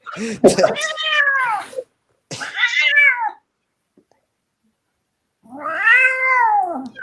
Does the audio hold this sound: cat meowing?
yes